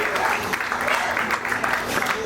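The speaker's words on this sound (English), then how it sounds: "Give an alligator some applause" Audience applause at an Everglades alligator show in Florida, a steady, fairly close patter of clapping running through the whole short stretch with some speech-like murmur mixed in.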